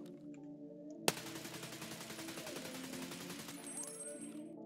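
A rifle fires a long, loud burst of continuous automatic gunfire during a crouching recoil test in the video game Escape from Tarkov, starting with a sharp first shot after a moment of quiet.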